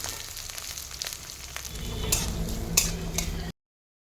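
A medium onion and four or five slit green chillies sizzle in oil after a half spoon of five-spice tempering crackles, with steady frying and a few sharp stirring clinks, close and fairly quiet.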